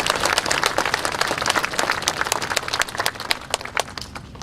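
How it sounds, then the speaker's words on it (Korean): Audience applause at an opening ceremony for a new highway section, a dense steady wash of many hands clapping with no speech, sustained throughout at moderate loudness. "박수 한번 크게 보내주십시오"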